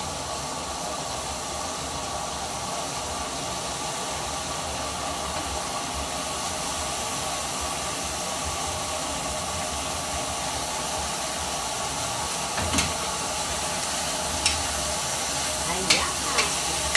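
Squash frying in a hot pan while being stirred, a steady loud sizzle and hiss with a few sharp scraping knocks near the end, no talking over it.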